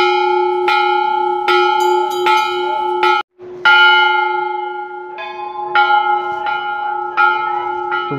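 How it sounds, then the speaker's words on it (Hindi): A temple bell at Gangotri is struck repeatedly by hand, ringing loud and clear with sustained metallic tones; about ten strikes come in quick succession with a brief pause midway, each ring overlapping the last. "और एक बार घंटी बजा लेते हैं।"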